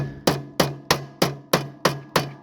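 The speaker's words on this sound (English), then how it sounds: "I'm actually just going to use a hammer just to" Seven sharp, evenly spaced hammer blows ring against metal, flattening a lawn care equipment part, each with a short metallic ring, close and steady.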